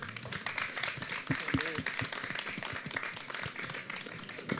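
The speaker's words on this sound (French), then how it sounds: "Applaudissements s'il vous plaît." French-speaking audience at a literary event applauds, scattered hand claps of moderate loudness with a voice briefly heard over them.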